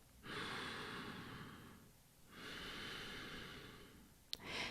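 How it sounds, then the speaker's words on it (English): A person draws a long, slow breath in and releases it in an audible sigh, close and soft, with a brief click before a final short exhale. "take a closing breath."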